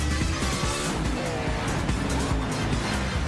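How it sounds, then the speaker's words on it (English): A Camaro race car in a racing video game set on the Long Beach street circuit roars at close range with a continuous, varying engine note and brief tire squeal, while a commentator talks over it. "You can hear it, Aui's car, the Camaro car"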